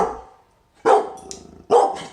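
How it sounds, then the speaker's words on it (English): Two sharp dog barks, close and loud, the first after a brief faint start and near-silence, the second following under a second later. "He kind of barked at everything."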